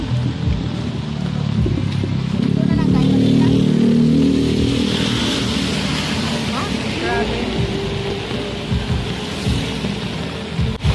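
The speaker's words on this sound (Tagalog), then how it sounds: "Yan, maulan na nga. Mado malakas." Heavy rain pours steadily during a flood, a dense, continuous wash of noise with voices and some low rumbling mixed in throughout.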